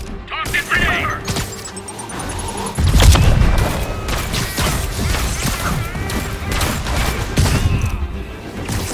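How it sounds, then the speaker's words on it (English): Grenade blast during a fight in Marvel's Spider-Man Remastered, a loud, close boom with crashing debris amid ongoing combat noise, scattered impacts and faint game voices. "Toss it, grenade!"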